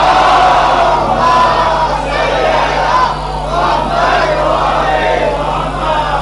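A large gathering at a Shia religious sermon for 4 Shaban in Jogeshwari loudly recites salawat together, a dense roaring chorus of many voices sustained throughout.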